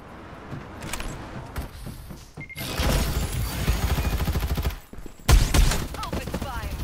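Gunfire from the video game Farlight, with bursts of automatic shots that grow dense and loud in the middle and then break off before a sharp blast, set against game effects and music.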